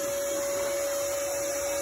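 A hair dryer blows steadily and loudly at a motorcycle wash, giving a constant airy rush with a fixed whining tone that never changes for the whole stretch.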